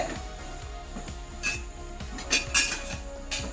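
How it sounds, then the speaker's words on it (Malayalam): Tapioca in ghee being stirred and mashed in a pan, with repeated scraping and clinking of a metal spoon against the pan over a constant background hum, with no voices. "നമുക്കിത് നന്നായി ഒന്നിങ്ങനെ ഇളക്കി കൊടുക്കാം. ഒന്നും കൂടെ ഉടച്ചിട്ട് റെഡിയാക്കണം."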